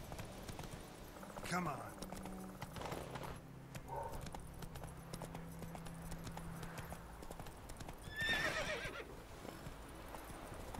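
Roach, the rider's horse in The Witcher 3, clip-clops along at a gallop with a whinny, close and fairly quiet, while someone speaks briefly over the hoofbeats.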